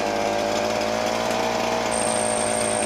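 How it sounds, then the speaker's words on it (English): A Ryobi BP42 backpack leaf blower engine warming up, giving a loud, steady two-stroke drone that holds an even pitch from start to finish, close by and alone. "We're going to let this thing warm up for about 20 seconds and come right back."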